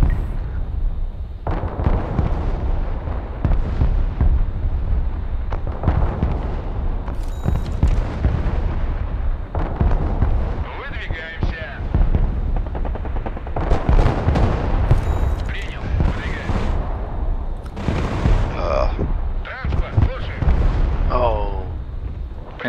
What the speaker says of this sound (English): I also got artillery firing on the artillery.